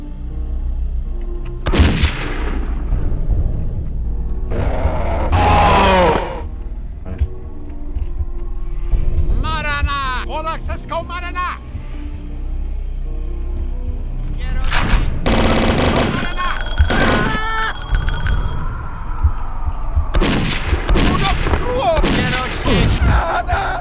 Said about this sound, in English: Tommy gun this time